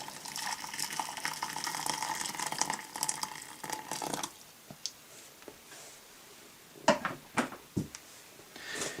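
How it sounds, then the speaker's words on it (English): Freshly boiled water pours from a kettle into a bowl in a steady splashing gush, then stops, followed by a few scattered clinks and small handling knocks nearby. "pour this freshly boiled water on top of it"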